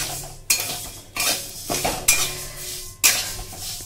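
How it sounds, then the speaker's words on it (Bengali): Mung dal dry-roasting in an oil-free kadai, with a utensil stirring and scraping in close, loud bursts roughly every second against a faint background hiss. "একদম কাঠ খোলায় কোনো রকম তেল না দিয়ে শুকনো কড়ায় মা ডালটাকে ভেজে নিচ্ছে"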